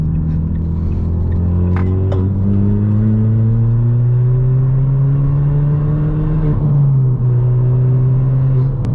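Modified Ford Fiesta MK6 Zetec S with a Hornet straight-pipe exhaust droning loudly and steadily while driving, engine pitch rising and falling gently through gear changes, close and continuous with no talking.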